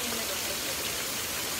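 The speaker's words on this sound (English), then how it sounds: "it is raining cats and dogs" Heavy rain pours down at a motel in Hiawassee along the Appalachian Trail, a dense, steady hiss of falling water that stays even and continuous throughout the short stretch.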